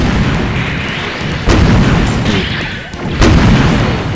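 Missile launches from a Zaku II mobile suit in SD Gundam Online, loud booming blasts with sharp bursts at roughly one and a half second intervals over a rumbling battle background.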